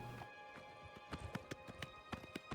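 Hooves of a horse galloping in Oblivion Remaster thud in a quick, uneven rhythm of sharp clops, fairly faint, over a soft background bed of game music.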